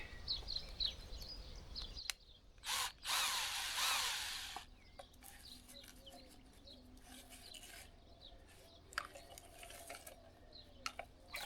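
A power drill drives a screw into a wooden stick outdoors in an olive grove, giving one loud whirring burst of about two seconds, followed by faint scraping and handling noises.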